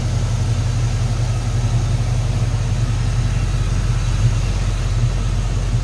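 A 5.3-liter V8 in a 1953 Chevrolet 3100 five-window pickup street rod idles steadily up close, a smooth, even low rumble with no revving and no voices.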